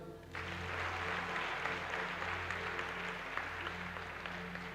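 Congregation at a church worship service applauding and cheering, a broad sustained wash of clapping that swells in quickly and holds steady at moderate distance.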